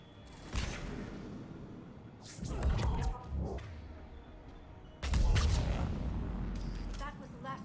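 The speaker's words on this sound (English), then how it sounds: "Ooh, grenade." Grenade blasts in the video game Mass Effect 3: heavy, booming bursts with crashing debris land in separate waves amid continuous battle noise.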